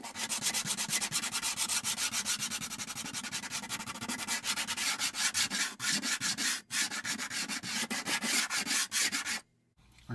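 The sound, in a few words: sanding texture paste over balsa wood with 60 grit sanding stick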